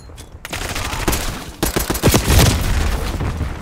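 Rapid bursts of gunfire from guns being tried out in a video game, loud and close, with dense overlapping shots building through the second half and no talk.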